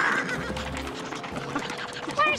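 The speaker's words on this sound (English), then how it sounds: "Horses, yeah!" Horses neighing in a cartoon village scene, a short whinny near the start among busy sound effects and background noise, fairly close, with another shrill cry at the very end.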